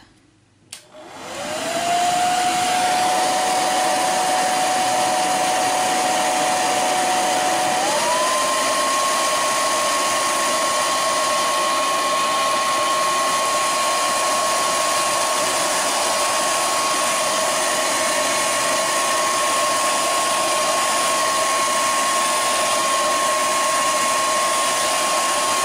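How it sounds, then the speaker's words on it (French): A hair dryer switches on and blows loudly and steadily on a sketch drawn in erasable magic pencil, its whine stepping up once in pitch early on, then holding constant for the rest. "Donc je vais prendre un sèche-cheveux. Donc ça va faire du bruit"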